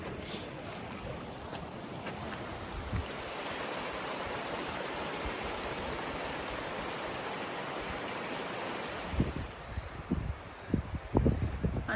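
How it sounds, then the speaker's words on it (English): Steady rushing water fills the scene at the Coal River crossing on a long-distance trail, a broad even wash, with a few footfalls and splashes near the end. "I think this was the Coal River crossing"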